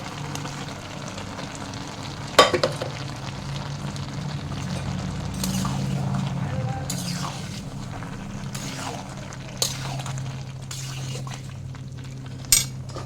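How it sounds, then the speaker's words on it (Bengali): Lentils (dal) are stirred into softened cooking vegetables in a pot, with occasional metal spoon clinks against the pan over a low simmering bubble, close up, with no talk. "এবারে আমি ডালটা দিয়ে দেবো।"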